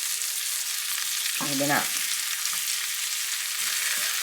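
Beef liver fries in a pan with a steady, fairly quiet sizzling hiss, and a person speaks briefly over it partway through.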